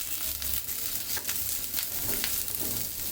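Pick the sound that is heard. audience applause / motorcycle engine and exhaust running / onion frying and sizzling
onion frying and sizzling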